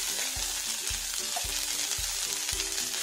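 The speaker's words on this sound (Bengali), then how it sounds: "আমি এবারে খারকুল পাতা বাটাটা দিয়ে দেব।" Kharkol leaf paste frying with garlic in a pan over gas, a steady close sizzle with rhythmic thuds from a spatula stirring about every half second.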